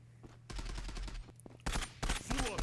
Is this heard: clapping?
no